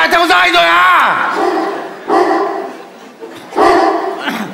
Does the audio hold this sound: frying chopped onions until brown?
no